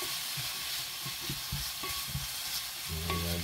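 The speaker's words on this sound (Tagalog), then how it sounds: "Gisa muna tayo para mas yung aroma niya lumabas." Bean sprouts sauté in a pan with a steady loud sizzle, while a utensil scrapes and stirs in soft repeated strokes close by.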